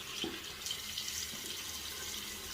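Tap water runs steadily into a home sink or basin after pressure returns, a faint continuous hiss and splash with no speech.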